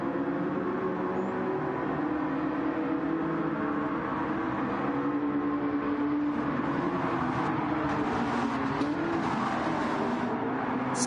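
A McLaren race car's engine drones steadily around the track in Gran Turismo 7, a continuous loud roar with slight pitch shifts and no talking.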